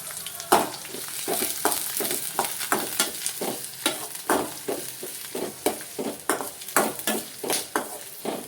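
Ginger and garlic fried in a pan with onion, a steady sizzle broken by regular scraping stir strokes, close and continuous with no talk.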